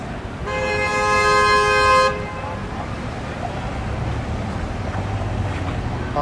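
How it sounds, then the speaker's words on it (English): A car horn in downtown Toronto traffic gives one sustained honk of about a second and a half, loud and close, then fades into steady street and wind noise. "Honk honk."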